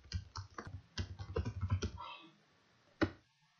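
Rapid clicks of typing on a computer keyboard, a burst of keystrokes for about two seconds followed by a pause and one sharp final key press, close and clear with no talking.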